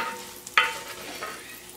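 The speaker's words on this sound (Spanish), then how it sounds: "los chiles serranos ya se terminaron de sofreír" Serrano chiles frying in bacon fat in a pan give a faint, low sizzle, broken by one sharp clink of a utensil against the pan partway through.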